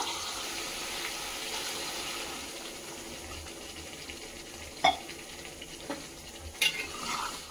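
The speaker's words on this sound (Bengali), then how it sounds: "এখন কিছু পরিমাণ জল দিয়ে নেব।" Water poured into sizzling village-style mutton curry: a broad steady hiss and bubbling rush for several seconds, with a few sharp clinks of a utensil near the end, close and moderately loud.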